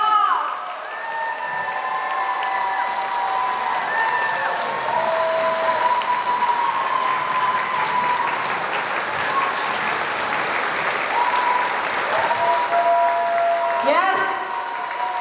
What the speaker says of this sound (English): Would you give her a big applause?